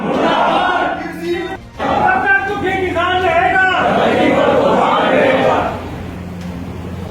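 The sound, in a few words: crowd of protesting farmers chanting slogans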